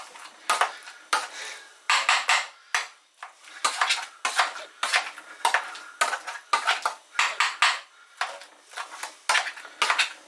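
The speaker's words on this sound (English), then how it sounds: "you want to mash them till you're not tasting any lumps at all" Boiled potatoes are mashed in a pot for cottage pie, with a masher or spoon clanking and squelching against the metal in rapid, uneven bursts, close and fairly loud with short pauses between strokes.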